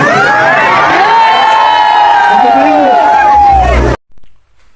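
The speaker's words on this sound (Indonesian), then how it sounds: "Hal ini juga membuat para undangan bersorak." Wedding guests at a traditional ceremony, a loud crowd cheering and shouting together at a father, a dense roar of many voices that cuts off abruptly.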